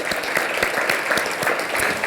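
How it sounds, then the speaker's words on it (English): Warm applause from a banquet audience at a South Jersey business event, brisk, close clapping with distinct individual claps over a steady background of many hands. "a warm round of applause"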